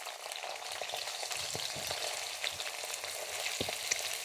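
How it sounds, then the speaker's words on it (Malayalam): Shallots frying in hot oil for liver masala make a soft, steady sizzle with light crackles and occasional clicks of stirring, heard up close at a moderate level without speech. "എണ്ണ ചൂടായപ്പം ചെറിയുള്ളി ഇട്ട് കൊടുത്തു."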